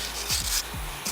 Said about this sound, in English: got our wire brush over here just to clean off the slides